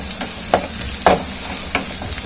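Garlic sautés in a pan for chutney with a continuous close sizzle, broken by three sharp scraping clacks of a spatula stirring against the pan.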